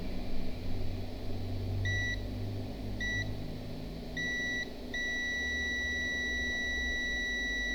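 A multimeter on continuity setting beeps while probing a shorted capacitor in an LG K10 Power phone, giving several short beeps and then one long steady tone over faint background hum.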